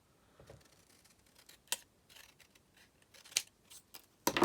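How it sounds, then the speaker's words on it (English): Scissors with long blades snip paper in a few sharp, quiet cuts spaced irregularly, with soft rustling between them in a quiet room. "I'm going to get my long scissors and cut that in half."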